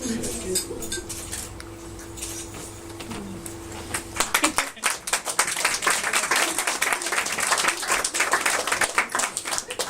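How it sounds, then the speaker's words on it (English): Clapping from wedding guests after a speech, starting midway and continuing as a steady patter of many hands in a room, preceded by clinking cutlery and dishes under a low hum. "I can hear a lot of men out there clapping very tentatively"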